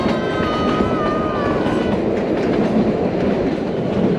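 The Kalka–Shimla toy train runs through the hills with a loud, continuous rumble and rhythmic clatter of wheels on track, heard from close by with a brief high squeal near the start and no voices.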